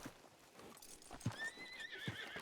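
A horse in the video game Red Dead Redemption 2 (Wild RP) gives a faint whinny with clopping hooves, heard alone at low level.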